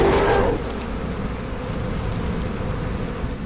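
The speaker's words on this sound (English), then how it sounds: "I'm gonna hit him with bees" A dense buzzing swarm bursts out in a bee attack in the video game Massive Chalice, loud for half a second before fading into a steady low rumbling drone.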